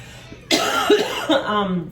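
A sudden harsh cough close to the mic, followed by a couple of smaller rasping coughs and throat sounds.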